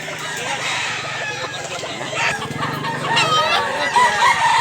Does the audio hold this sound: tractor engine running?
no